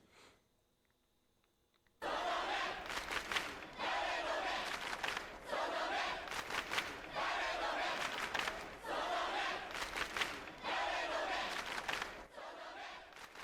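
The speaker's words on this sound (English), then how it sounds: "It sounded like fans cheering from the bleachers at a soccer game." Crowd chanting and cheering in the Chaos;Head Noah video game, a loud, sustained roar of many voices that swells in repeated rhythmic waves after a quiet opening, like fans in stadium bleachers.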